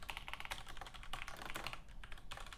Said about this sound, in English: I mean, look at all that typing.